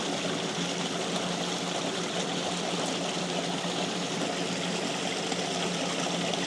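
Water pours steadily through a homemade gold trap contraption, a dense, constant rushing and gurgling flow, loud and close, with a faint mechanical hum underneath and no talking.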